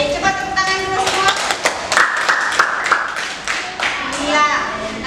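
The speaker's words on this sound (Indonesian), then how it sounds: "Cepat tepuk tangan dulu semua." A junior high school class claps their hands together in a classroom, with a loud burst of uneven, overlapping clapping. Children's voices and chatter run underneath the whole time.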